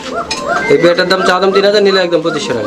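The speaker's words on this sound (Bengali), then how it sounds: "দেখেন মাদির ডাক দেখছেন ভাই মাদি যা ডাকবো প্রচুর" Female fancy pigeon cooing up close, a run of soft repeated calls heard while someone talks over them.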